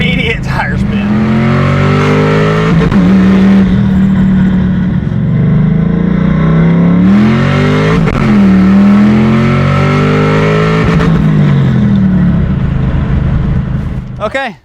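A car with a new, grippy clutch launches hard on a street with immediate tire spin, its engine revving loudly and climbing in pitch through repeated surges, up close and dominating.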